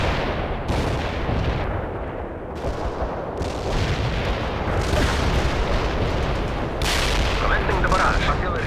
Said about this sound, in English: Our barrage, we can deploy and lay down a heavy barrage.